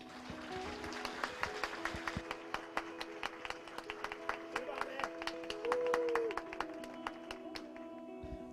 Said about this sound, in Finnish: Antakaa ystävälliset aplodit heille.